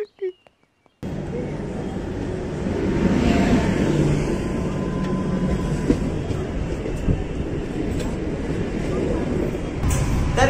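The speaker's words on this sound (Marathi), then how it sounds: "तर बघू येते आता ट्रेन." A Mumbai local AC train pulls into a station, its loud rumbling and clattering rising and holding steady after a brief quiet start, with some voices in the background.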